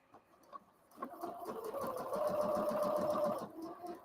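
A sewing machine runs a straight stitch seam, starting with a few short bursts and then whirring steadily in rapid rhythmic stitching for about two seconds before slowing to a stop, fairly quiet and close.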